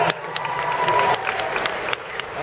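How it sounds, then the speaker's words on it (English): Convention panel audience at San Diego Comic-Con 2015 applauds and cheers, a full crowd of clapping with a few louder claps standing out and murmured voices beneath. "Applause for my imaginary girlfriend."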